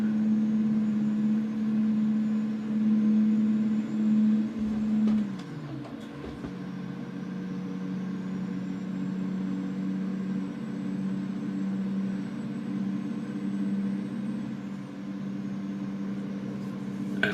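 A truck in a truck driving video game runs with a steady low engine drone, pitch dipping briefly as it shifts, then holding constant at cruising speed.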